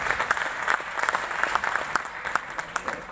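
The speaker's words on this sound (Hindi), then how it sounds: "एक जोरदार ताली हो उनके लिए।" Fairly faint applause from an audience at a cultural program event, a loose patter of claps running for about three seconds.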